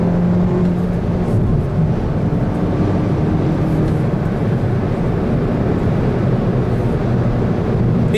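A Hyundai Elantra GT N Line accelerates hard in third gear, its engine a loud, steady low drone mixed with road and wind noise from inside the cabin.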